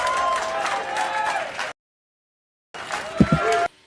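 A large crowd at a live stage event applauds and cheers as a company CEO walks on, a dense wash of clapping cut by a sudden gap, then returning with a voice speaking close over it.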